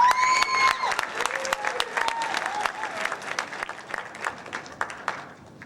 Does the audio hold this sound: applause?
yes